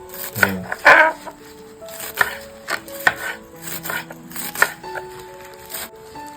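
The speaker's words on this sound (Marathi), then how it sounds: "ती पण घेतोय बारीकच कापायची एकदम बारीक कापल्याने ना भाजी व्यवस्थित शिजायला मदत होते" A knife chops fresh, home-grown leafy greens finely on a board, with close, crisp, irregular thuds and leafy crunches, loud at first, then a lighter series of cuts.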